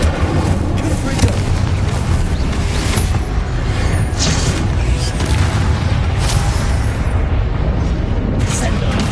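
Spell explosions cast in the Hogwarts Legacy video game: dense, continuous booming blasts and crackling impacts follow one after another, loud throughout, mixed with a voice shouting spell names.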